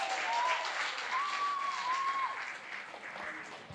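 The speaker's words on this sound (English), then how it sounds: "So a great round of applause for École Boreal and for their staff." An audience at a cultural sharing event in Happy Valley-Goose Bay breaks into steady, moderately loud applause that holds for several seconds before starting to thin out, with a thin whistle-like tone rising above it.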